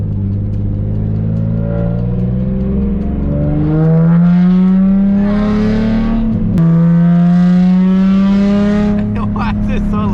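A Nissan 350Z revs loudly while drifting, its engine note climbing and falling in sweeping pitch as it is heard from inside the car, with voices talking over the roar.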